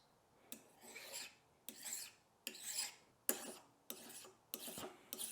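The ends of silver wire held in a miter vise are filed flat, giving seven or eight close, evenly spaced rasping strokes, each a short gritty burst with brief quiet gaps between.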